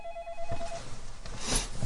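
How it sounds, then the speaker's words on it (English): A telephone rings with a brief electronic tone over room noise, then a fumbling, handling sound as the phone is picked up. "My phone is ringing."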